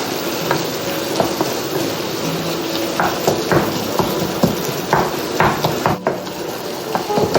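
Minced meat with added spices, cooking for baked kibbeh, is stirred and fried in a pan: a loud, continuous sizzle broken by repeated spatula scrapes and knocks against the metal, with no voices.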